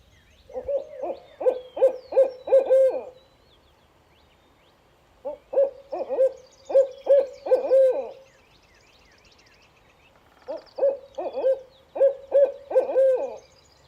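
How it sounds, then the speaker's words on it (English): A barred owl calls in three separate bursts of rhythmic hooting, clear and fairly close, with quiet pauses between the series. "That's a barred owl."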